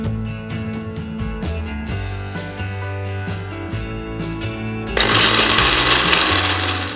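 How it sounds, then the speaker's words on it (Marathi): A mixer grinder powders dry roasted spices for kanda lasun masala, starting with a steady whirring hum and rattling, then surging into a loud, harsh grinding roar near the end. "हे जे ड्राय रोस्ट केलेले मसाले आहेत ते आपण पावडर करून घेऊया"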